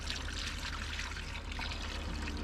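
Sugar water pours in a thin, steady trickle into a beehive feeder during a spring hive inspection, faint and close with no speech over it.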